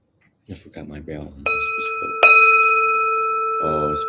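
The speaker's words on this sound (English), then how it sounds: "I forgot my bell." Meditation bell rung at a Buddhist dhamma talk, two clear struck tones with long sustained ringing decay, the second strike louder, with someone speaking briefly before and after.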